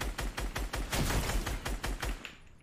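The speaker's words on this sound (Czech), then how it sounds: "On prostě střílí po mně." A quick string of sharp gunshots fires in an uneven rhythm, fairly loud, then trails off near the end with no voices.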